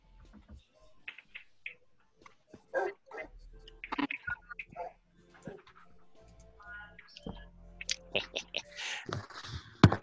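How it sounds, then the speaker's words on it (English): Two pet dogs yip, bark and whimper in short scattered bursts close by, getting busier toward the end, with people talking in between. "Got a pet dog now."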